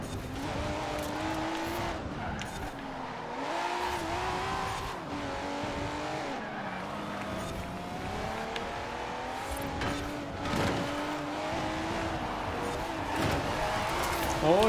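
An Audi R8 racing in Forza Horizon 4, its engine revving and shifting through rising and falling pitch sweeps with brief tire squeal, loud and continuous, while someone speaks German over it.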